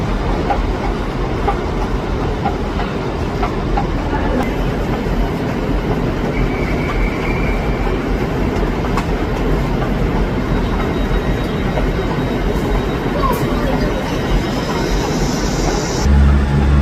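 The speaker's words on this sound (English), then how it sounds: "random view to see a train leaving." A train pulls out of Leeds station with a loud, continuous rumble and wheel clatter that holds steady and close throughout, with no talking.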